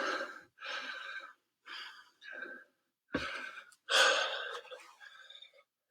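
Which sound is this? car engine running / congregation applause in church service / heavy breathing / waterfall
heavy breathing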